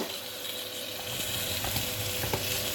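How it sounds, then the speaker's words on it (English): Steak searing in a hot pan gives off a steady close sizzle and crackle, with a few small pops and stirring clinks, and no voices. "we're going to cook the steak on 3 minutes on each side"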